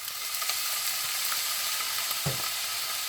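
Pineapple fried rice stir-frying with sugar and soy sauce, a steady loud hiss of sizzling oil throughout, with faint scraping knocks of the spatula now and then, close up and free of talk.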